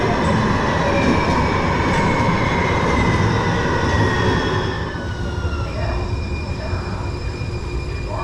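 A San Francisco light rail train rumbles and hums through an enclosed underground station, with faint squeals and a droning motor tone, steady and fairly loud throughout.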